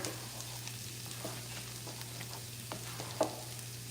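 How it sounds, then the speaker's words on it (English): Vegetables cooking in a pan for shrimp and grits hiss softly and steadily as they are stirred, with light scrapes of the spoon and one sharper clink near the end. "I'm just gonna keep stirring"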